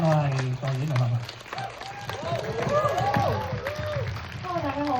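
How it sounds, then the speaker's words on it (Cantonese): Audience applause rises at a special 4K screening of the film Anita with the director and actresses present, a moderate patter of clapping sitting beneath a prominent speaking voice throughout. "多謝大家嘅掌聲"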